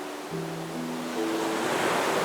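Broad wash of ocean surf from the Honkai: Star Rail video game, a steady rushing roar of waves that swells slightly louder toward the end, with faint sustained musical tones layered above it and no talk.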